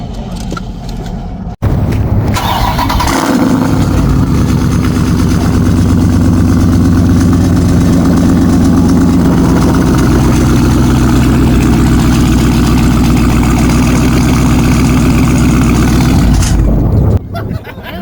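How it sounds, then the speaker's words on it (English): A loud car at a small-town car meet cranks over and fires up after a short quiet stretch, then settles into a heavy, rumbling idle held close and steady for many seconds before cutting off. "If you want something loud, that's the damn car."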